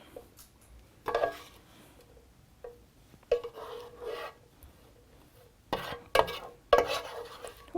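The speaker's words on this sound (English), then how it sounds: "So we're just going to scoop this all into this giant bowl." A spoon scrapes and scoops black bean and quinoa enchilada filling into a large bowl. Several rasping, wet scrapes come in irregular bursts with quiet pauses between them, close up and without talk.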